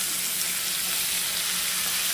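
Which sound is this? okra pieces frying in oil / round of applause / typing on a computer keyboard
okra pieces frying in oil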